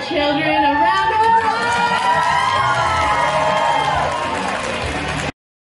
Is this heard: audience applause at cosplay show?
yes